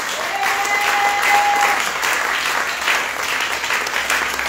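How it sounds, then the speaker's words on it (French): Sustained applause from a large crowd at a church gathering, steady and dense throughout with a brief whistle-like tone over the clapping and no clear cheering voices standing out. "Ok, quelqu'un acclame très fort."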